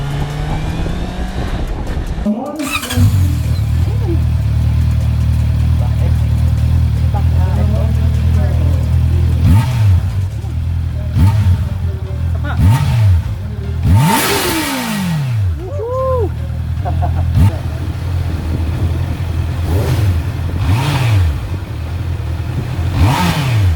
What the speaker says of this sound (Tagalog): The engine also puts out a very nice exhaust note, even with a stock pipe.